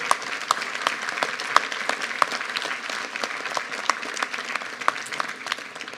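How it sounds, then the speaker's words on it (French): An audience at a New Year address to residents gives sustained applause, a steady close crackle of many hands clapping at even volume throughout, with no speech over it. "je voudrais vraiment vous demander d'applaudir une fois encore Céline Rousset."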